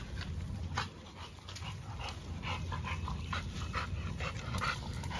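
Several dogs giving faint high whimpers and short yips over a steady noisy background, distant and low in level.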